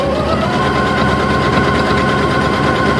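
A sewing machine runs a dense, tightly set zigzag stitch for a pin cushion project, its fast steady mechanical whir loud and unbroken throughout.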